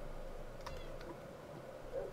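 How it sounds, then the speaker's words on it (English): A cat gives a short, faint meow against a steady low background hum, a single brief cry with a softer second note. "Kitty, come here."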